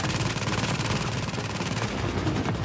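Sustained automatic gunfire from The Division video game rattles in a rapid, dense, loud burst. It runs continuously for a couple of seconds and eases briefly near the end.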